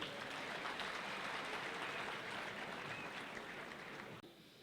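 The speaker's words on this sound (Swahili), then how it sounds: "Welcome back home, sir. Tumpigie makofi." Audience applause welcoming Moses Kuria at a school gathering, a broad, steady wash of clapping from a crowd that carries on evenly before cutting off near the end.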